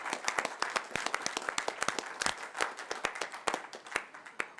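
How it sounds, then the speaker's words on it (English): A modest audience at a city commission meeting in Dania Beach claps for a local restaurant, with distinct individual claps in an uneven patter and fairly quiet, moderately distant applause. "let's just give a round of applause for 30 years of Monday's Restaurant in the city of Dania Beach"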